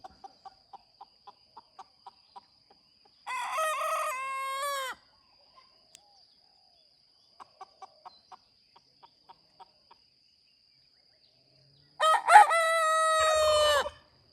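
A rooster on the Big Island of Hawaii crows twice, two long, loud calls set well apart, with soft rhythmic clucking and clicks in between over quiet surroundings.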